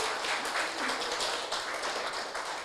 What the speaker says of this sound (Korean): 한번 큰 박수 한번 부탁드리겠습니다.